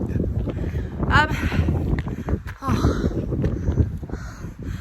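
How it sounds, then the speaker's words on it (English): Wind buffets the microphone on a hill, a continuous low rumbling roar throughout, with a crow cawing a couple of times in the distance and a person speaking. "it's windier up here than I thought"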